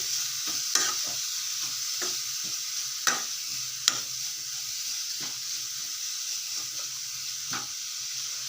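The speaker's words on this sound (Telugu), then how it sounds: "సిమ్లో పెట్టుకొని వేయించుకుందాం నిదానంగా వేయించుకోవాలండి ఇది" Grated carrot fries slowly on low heat for a carrot, coconut and jaggery laddu. A soft, steady sizzle runs under scattered clinks and scrapes of a spoon stirring the pan, with no talk.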